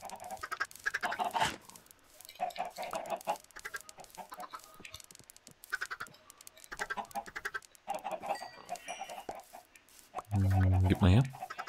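Chickens cluck in the video game Minecraft, short fowl calls scattered among game sounds and someone talking, with a louder, fuller cluck near the end.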